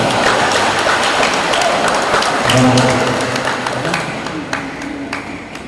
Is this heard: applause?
yes